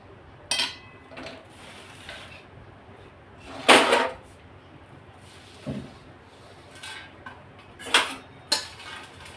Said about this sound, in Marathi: आता हा एका ताटामध्ये काढून घेते